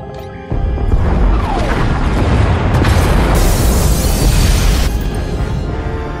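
A massive explosion destroys the pod bays in the video game SWTOR (Knights of the Fallen Empire), a loud sustained roaring blast with deep rumble and crackling debris that fills the whole stretch after a sudden onset.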